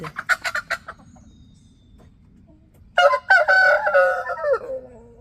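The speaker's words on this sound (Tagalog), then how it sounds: "Ang lakas ng tilaok ng manok." A two-year-old giant chicken rooster crows loudly and close by, a long drawn-out call that follows a few short clucking notes.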